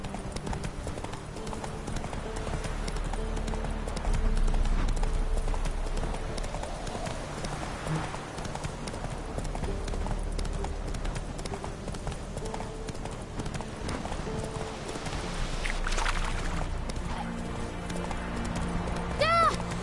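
Roach the horse gallops through The Witcher III, a steady clip-clop of hooves rolling on with only small changes in pace, set against a dense game soundscape with occasional faint voices.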